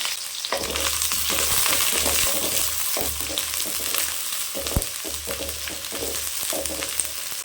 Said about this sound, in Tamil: எண்ணெய் சேர்த்துக்கலாம் சோம்பு சேர்த்துக்கலாம் சோம்பு கொஞ்சமாக சேர்த்துக்கலாம் இதுக்கு வந்து சோம்பு ஃப்ளேவர் தான் அதிகம் இருக்கணும் சின்ன வெங்காயம் சேர்த்துக்கலாம் கூட கருவேப்பிலை சேர்த்துக்கலாம்